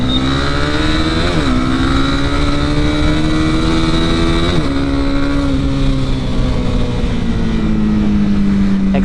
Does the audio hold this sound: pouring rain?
no